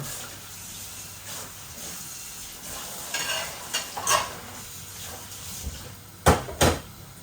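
Potatoes frying in a pan give a soft background sizzle, with scattered stirring and clattering knocks of utensils against cookware, a couple of sharp clacks near the end, close-up with no talk.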